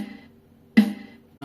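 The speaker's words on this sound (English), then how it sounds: "A snare over the top," A single crisp snare drum crack rings out, followed by the start of another hit, with a faint decaying tail before it.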